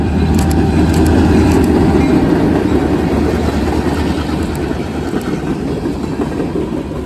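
A CN local train, the Woodstock Local, rolls past close by, a steady loud rumble of engine and rail noise with wheel clatter that eases slightly toward the end.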